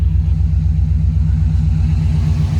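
A modified Subaru Impreza STI hatchback engine idles with a steady, deep, throbbing rumble, loud and close, with no change in pitch throughout.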